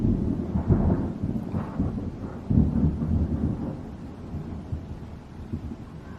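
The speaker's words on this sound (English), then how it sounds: "Oh, thunder." Thunder rumbles low and distant in several rolling swells that rise and fade, fairly faint, with no speech.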